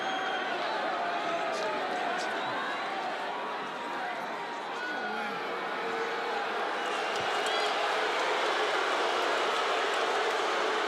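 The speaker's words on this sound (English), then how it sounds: "the crowd doesn't like it" An arena crowd at a UFC fight between Dustin Poirier and Justin Gaethje boos, a sustained roar of disapproval that rises and falls under a commentator's voice.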